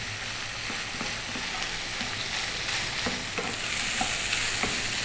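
Beef seasoned with salt and black pepper frying over medium heat for an Ethiopian breakfast, a steady sizzle broken by repeated scraping stirs of a utensil in the pan.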